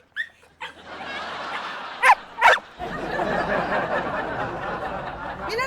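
A dog gives a few sharp barks and yips close by, with short gaps between them, followed by a steady hiss of background noise.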